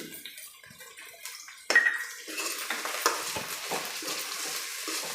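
Tomatoes frying with capsicum and onion in a pan, a soft sizzle under a sharp clatter of a spoon against the pan and stirring scrapes.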